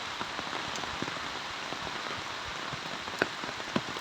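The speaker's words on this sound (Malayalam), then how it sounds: "ഇനി പണിയില്ലാതെ ഒന്ന് പുറത്തിറങ്ങിയപ്പോ അതാ മഴ" Steady rain pours onto a surface beside a stream, a dense, even hiss of drops with a few sharper splats standing out near the end; no voices.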